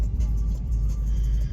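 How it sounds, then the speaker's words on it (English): A Mercedes-AMG engine runs with a steady, loud low rumble, heard up close from inside the car with no talking. "now I've jumped in this actually rather fabulous AMG and it does sound rather lovely"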